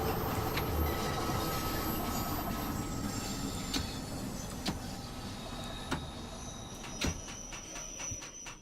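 A London Underground train in Train Sim World 2 slows to a stop at Piccadilly Circus, its steady rumble and rolling noise continuous throughout with a few sharp clicks and clunks toward the end.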